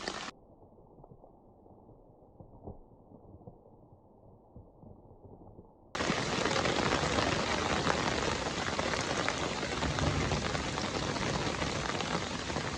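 Steady rain in rural Sri Lanka, a soft patter that swells abruptly into a loud, dense downpour partway through and then holds as a constant roar with no voices.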